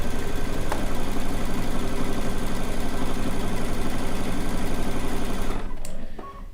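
Sewing machine running continuously while stitching a rag quilt, a steady fast mechanical hum and rattle that holds for about five seconds, then stops, leaving faint room noise.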